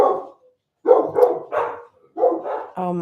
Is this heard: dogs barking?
yes